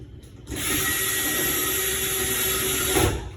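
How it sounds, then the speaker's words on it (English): Power drill whirs at a steady high pitch for about three seconds while driving a screw into a door knob, then winds down with a final bump. "Drill your screw in."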